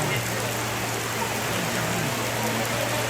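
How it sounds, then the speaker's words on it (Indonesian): Heavy rain pours steadily during a thunderstorm at a rural wedding-preparation gathering in Toraja, a dense continuous hiss with a low hum underneath, with no clear voices over it. "ada hujan deras."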